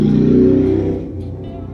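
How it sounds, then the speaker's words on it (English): A loud motor vehicle, a very loud motorcycle making laps on a residential road near a house, roars close by with a strong low engine note that fades slightly as it passes. "There's a guy just making laps back and forth on his super loud motorcycle."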